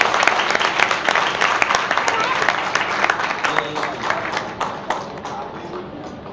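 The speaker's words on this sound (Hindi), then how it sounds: "तो आप लोग एक बार जोरदार से उनके लिए ताली बजाएं।" A hall audience at a spiritual introduction and honouring ceremony gives loud applause for a song and dance performance, sustained clapping that gradually thins and fades toward the end.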